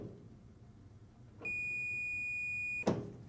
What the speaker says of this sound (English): I have it hooked up to beeper mode on my meter